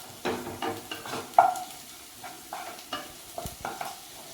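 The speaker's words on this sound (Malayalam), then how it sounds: "ഇനി നമുക്ക് ആദ്യം ഫ്രൈ ചെയ്യാം കേട്ടോ." Soya chunks frying in a pan for a Kerala-style nadan soya roast, stirred with a spoon: a soft steady sizzle under repeated close scraping strokes and light knocks against the pan, in an uneven rhythm.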